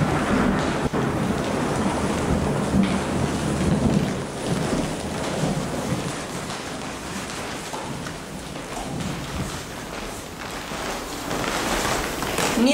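Steady rain pours outdoors with a continuous hiss of drops striking surfaces, alongside low rumbling thunder and some wind, holding an even loudness throughout without any voices.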